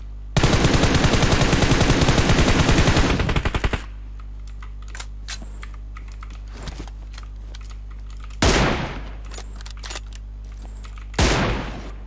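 Loud sustained automatic gunfire from PUBG Mobile gameplay, a long rapid burst for several seconds followed by a quieter stretch and two more short, sharp bursts of shots.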